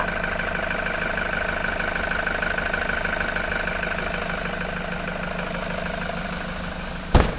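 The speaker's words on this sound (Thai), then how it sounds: "ฟังเสียงเครื่องยนต์ได้เลยนะคะ" A 2013 Toyota Commuter van with a 3.0 diesel engine idles steadily at close range with an even, continuous rumble, followed by a single sharp knock near the end.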